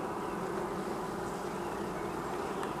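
Honeybees hum at a hive, a dense, steady drone close by that holds even throughout with no voices.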